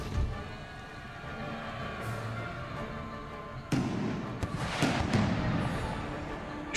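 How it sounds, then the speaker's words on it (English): Artillery shrapnel fire in the Empire Total War battle game, distant cannon booms and crackling bursts following a quieter stretch, with several sharp thuds layered over a continuous battlefield rumble. "You men are within range actually to bombard the dervishes with shrapnel fire."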